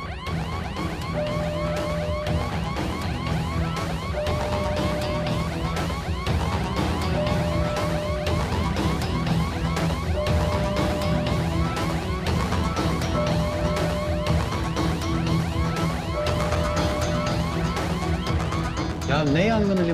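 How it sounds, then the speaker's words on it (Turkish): Fire alarm at a port wails in a repeating rising and falling tone, loud and continuous, layered with tense background music and occasional voices. "Yangın alarmı savcım."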